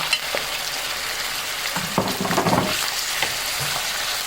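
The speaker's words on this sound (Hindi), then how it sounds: "और इसको हाई फ्लेम पे अच्छे से मिक्स करूँगी।" Chicken sizzling in hot oil as it is stirred, a steady crackling hiss with occasional scraping and clinks of a spatula against the pan.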